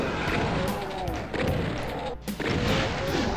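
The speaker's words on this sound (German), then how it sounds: "Die war schön, die Explosion." An explosion in the Doom video game lands as a loud, dense blast of rumbling noise, with a brief dip before more crashing impact sound returns.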